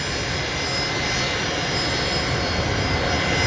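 Fokker 70 jet with Rolls-Royce Tay engines pulling into a stand at Brisbane Airport, a loud, steady, close roar with a high whine running through it, unbroken for the whole stretch.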